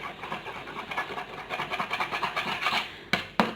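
Face mask paste being stirred and mixed in a bowl: close, rhythmic scraping and rubbing strokes in quick repeated pulses, with a couple of sharper knocks near the end.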